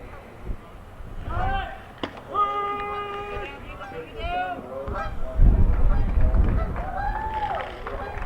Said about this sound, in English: They've released the geese.